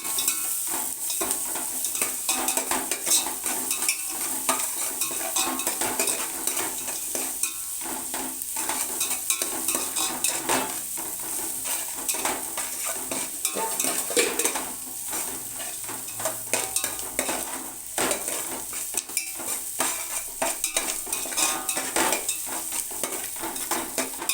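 Onions for dum biryani frying in oil and stirred continuously, giving a loud, steady crackling sizzle with constant scraping and clinking of a spoon against the pan throughout.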